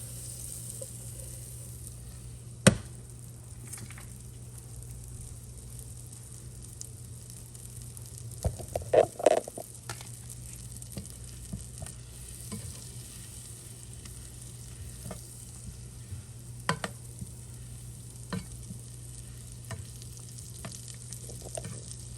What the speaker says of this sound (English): we're gonna go ahead and just let the rest of our butter melt down